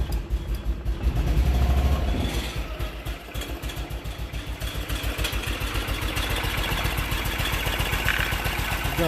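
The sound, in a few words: BMW Isetta engine starting and idling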